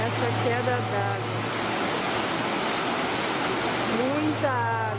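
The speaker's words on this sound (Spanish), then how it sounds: "Esa queda de agua." A waterfall roars as a loud, steady broadband rush of falling water, close and continuous, with a voice talking over it at the start and end.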